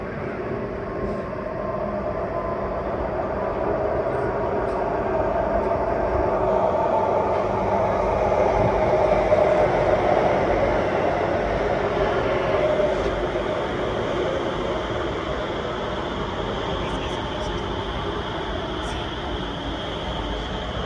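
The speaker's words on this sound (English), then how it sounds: "The train approaching platform A is not for boarding." An Alstom Movia R151 metro train, set 801/802, approaching a platform during testing, its rolling rumble and steady whine building and holding loud as it nears, while a station announcement plays over it.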